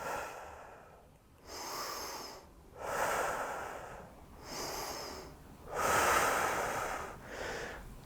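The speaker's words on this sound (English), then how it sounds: "3 deep breaths." Deep, slow breaths during a back rehab curl-up exercise, about five long airy inhale and exhale swells spaced roughly a second apart, close and steady with no talk.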